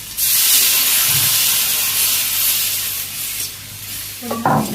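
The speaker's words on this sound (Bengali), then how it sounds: "আলু কষানো হয়ে গেছে, জল দিয়ে দিলাম" Water poured into potato curry frying in a pan on a village kitchen stove brings a loud, steady sizzle and hiss of steam that holds close for several seconds, with a brief clatter near the end.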